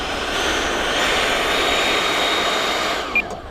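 A Freewing Typhoon 90mm electric ducted-fan model jet, rebuilt from crashed parts, brakes after landing; its fan gives a steady, loud high whine that suddenly drops away near the end, leaving a brief faint click.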